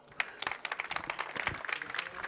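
An audience at a networking event claps steadily, a crisp, rapid patter of many hands heard up close and continuing without pause.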